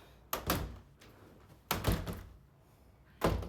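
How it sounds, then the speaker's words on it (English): Balcony doors in a Disneyland Paris apartment are pushed shut three times, each a sharp, close thud followed by a short rattling decay, with quiet gaps between. "When you can shut the doors."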